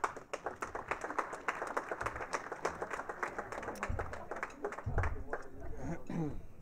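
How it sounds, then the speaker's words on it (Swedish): Warm audience applause at a Swedish lunchtime interview event before a semifinal, steady clapping from a crowd filling the whole stretch, fairly close. "Så Johan får en varm applåd på vägen fram."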